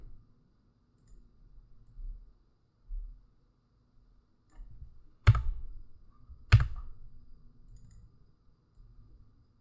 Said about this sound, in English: Double click into there.